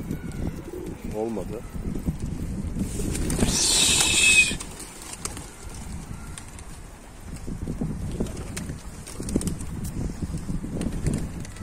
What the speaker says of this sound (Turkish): Kuşları sadece kümes üstüne kaldırdık.